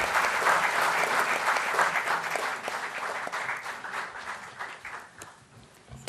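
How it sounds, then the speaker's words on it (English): Audience at an HR conference breaks into sustained applause, dense clapping at full strength early that gradually thins and softens toward the end. "Can we have a huge round of applause?"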